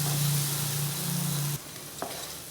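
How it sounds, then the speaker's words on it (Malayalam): Okra and tomato fry in oil in a pot for sambar, a close sizzling hiss with a low hum that cuts off midway, leaving quieter frying and a single soft clink. "വെണ്ടയ്ക്ക ഇങ്ങനെ ഫ്രൈ ചെയ്യുന്നത് വെണ്ടയ്ക്കയുടെ ഒരു വഴുവഴുപ്പ് വരാതിരിക്കാനാണ് സാമ്പാറിന്"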